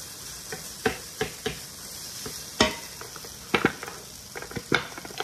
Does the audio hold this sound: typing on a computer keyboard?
no